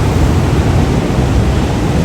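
Broadband rushing water current roars steadily and loud across the whole clip, a dense close wash of flowing river or rapids with no voices.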